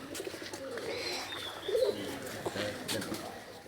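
Pet pigeons coo softly while feeding at home, with a brief louder coo in the middle and faint background noise.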